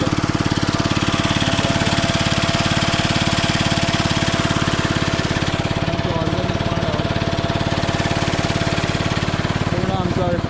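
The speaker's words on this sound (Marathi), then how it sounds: "पेट्रोलला चालतं आमचं इंजिन" A petrol-powered engine runs steadily on a Konkan village farm, its loud, even mechanical throb holding close and continuous for the whole stretch.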